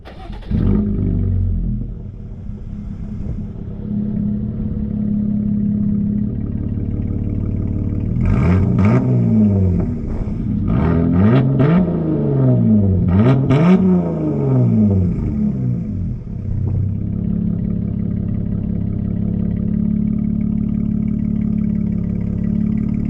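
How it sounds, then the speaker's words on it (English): A 2022 Jeep Gladiator Mojave engine with an aftermarket muffler idles with a deep exhaust rumble, then revs up and down several times in quick swells before settling back to a steady idle. "I'll put a little exhaust clip on starting it, that way y'all can kind of hear what it sounds like"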